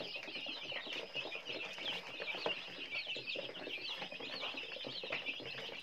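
A free-range Lai fighting chicken with a striped head clucks softly and repeatedly, mixed with other farmyard bird calls over a continuous hiss of background noise.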